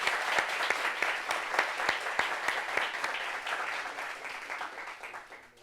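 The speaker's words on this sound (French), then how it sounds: "Applaudissements pour lui, s'il vous plaît." A studio audience applauds a talk-show guest, a full crowd of clapping with a few sharp, distinct claps standing out near the front, gradually tapering off at the end.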